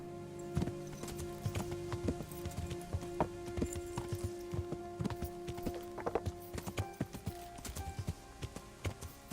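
Hooves clip-clopping steadily in the video game Kingdom Come: Deliverance, a busy continuous run of hoof hits over a dense ambient game bed, with no voices.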